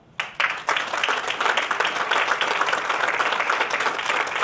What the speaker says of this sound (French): Je pense que ça vaut la peine de l'applaudir.